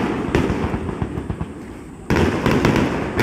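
Fireworks at the Rindo Lake fireworks festival in the Nasu Highlands crackle in dense rapid bursts, a sharp louder volley breaking out partway through over a continuous sputtering of small pops.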